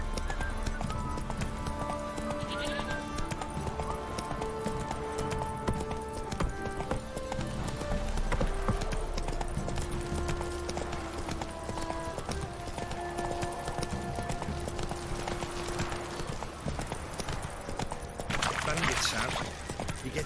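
Roach, the horse in The Witcher 3 video game, gallops with a steady clip-clop of hooves, heard close and continuous under game music, with a short voice and a brief whinny-like burst near the end.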